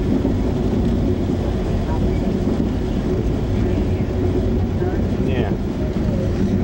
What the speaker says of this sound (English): I'm just riding Amtrak here out of New York